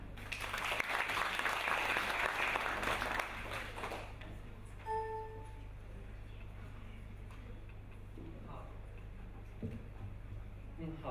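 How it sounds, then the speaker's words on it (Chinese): Audience applause at a piano concert: a few seconds of dense, steady clapping that quickly fades into a quiet hall with light shuffling and a faint tick or two. "孙天晟就要通过这一部作品带我们来观赏一部音乐中的图画展览会，让我们掌声有请。"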